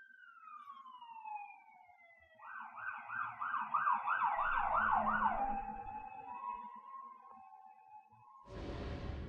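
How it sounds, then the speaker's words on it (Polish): Fire engine siren sweeping up and down as the truck passes on a street, starting with a falling wail, then a fast rising-falling yelp, then steadier tones, fairly close with road noise underneath. "Straż pożarna jedzie przede mną."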